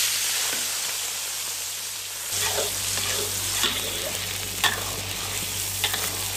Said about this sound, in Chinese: 料炒香了，把龙虾放下去。